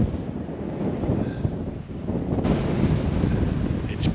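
Strong wind gusting at Cape Keraudren on the coast, roaring steadily across the microphone with low rumbling buffeting that grows louder partway through, with no talk.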